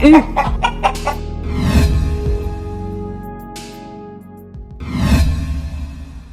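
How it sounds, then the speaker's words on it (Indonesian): Many chickens clucking loudly close by around a house, sharp repeated clucks in quick bursts with a rooster-like crow, the flock noise rising and falling in waves. "Itu ayam kenapa sih banyak banget? Sumpah berisik banget."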